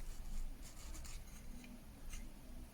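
Small salvaged TV speaker with a damaged cone rubbing as it plays, a dull scraping buzz running steadily through the clip, close and fairly quiet, no voices.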